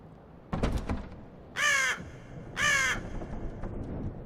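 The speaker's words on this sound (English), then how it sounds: "I guess there's a crow or something outside." Two loud, harsh crow caws a second apart in the horror visual novel Death Mark on Nintendo Switch, preceded by a few soft knocking thuds, against quiet background.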